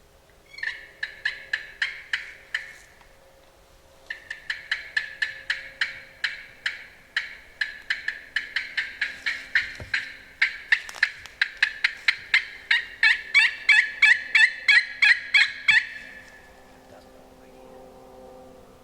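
Wild turkey gobblers call from a field in long runs of rapid, repeated gobbling notes, steady and moderately distant, continuing for most of the stretch before fading out, with faint whispering underneath.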